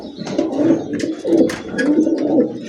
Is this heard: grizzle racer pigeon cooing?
yes